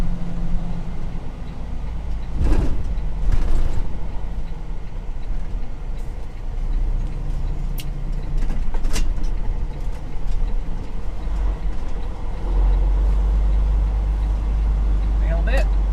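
Heavy road traffic rumbles past on a multi-lane highway, a steady loud drone of engines and tyres with passing swells, heard from inside a moving vehicle.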